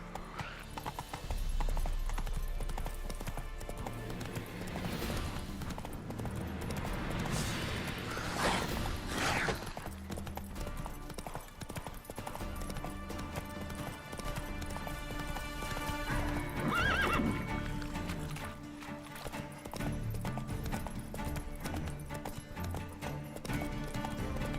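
The horse Roach in the video game Witcher 3, rhythmic galloping hoofbeats with whinnying neighs rising above, loud and steady throughout.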